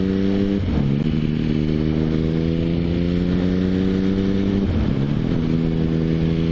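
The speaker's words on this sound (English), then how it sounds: "Bike into gear. Quick check all around the bike. And again, nice and briskly away." A motorcycle idles steadily with a close engine drone, then clunks into gear and pulls briskly away as the engine note dips and climbs, with a second gear change near the end; no talk.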